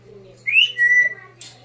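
Brown-headed parrot, twelve years old, gives two clear whistled calls in quick succession indoors, followed by a short higher chirp, all close and loud with no talking.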